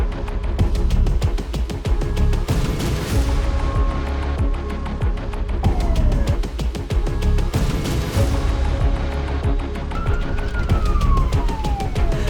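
A fire engine siren wails in rising and falling sweeps, loud and steady over a rumble of nearby traffic and engine noise for the whole stretch.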